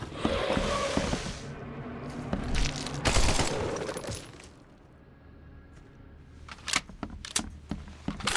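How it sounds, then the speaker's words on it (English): Several sharp revolver shots in the video game The Sinking City burst out in loud, separated cracks amid rumbling in-game ambience and clatter, with the later shots coming in a quicker cluster. "Same with the revolver. 4 shots."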